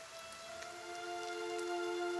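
Rain falling in the video game Pillars of Eternity, a soft steady hiss of drops that grows slightly louder, layered over sustained tonal hums of game music, no voices.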